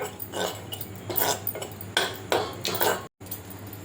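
Two spoons of gram flour are dry-roasted in a pan and stirred, heard as a series of close, rhythmic metallic scrapes of a spoon against the pan, with one brief gap near the end.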